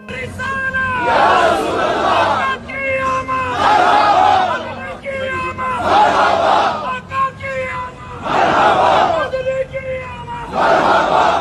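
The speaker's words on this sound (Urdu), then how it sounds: "روزہ رسول پر بھی جا کر غلام ہے رسول کے غلام ہے کہ نعرے لگا کر نبی کی توہین کرتے ہیں" A crowd loudly chanting religious slogans at an Eid Milad gathering, in repeated rhythmic call-and-response bursts roughly every two seconds, loud and close.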